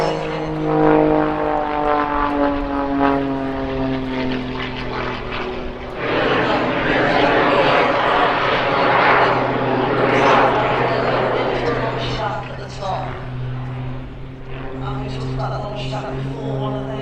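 Rich Goodwin's jet-assisted Pitts aerobatic biplane flies an inverted flat turn at an airshow, its loud propeller engine droning continuously with a shifting pitch and a rushing jet roar, while a commentator talks over it.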